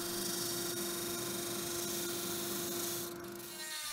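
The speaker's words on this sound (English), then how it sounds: "I sand the line on the sander" A power sander hums steadily and loudly as a wooden wheel for a toy tractor made from scrap is sanded, with a faint rubbing rasp against the wood and the motor easing off near the end.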